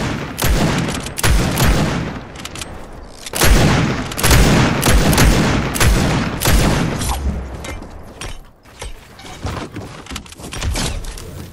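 Hunting rifle gunfire rings out in a Fortnite match, with loud, sharp shots and heavy booms repeating across the stretch, some clustered close together and others spaced apart, with no talk over them.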